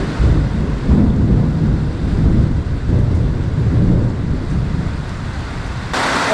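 Thunder rolls over open water as a big storm approaches, a deep continuous rumble mixed with wind buffeting the microphone, loud and close throughout.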